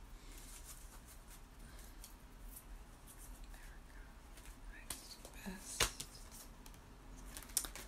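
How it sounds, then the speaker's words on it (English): Soft, quick shuffling of a tarot deck close by, with papery riffles and a few sharper snaps near the end, over a faint hushed background. "And I'm just going to shuffle the deck here for you, for Erica."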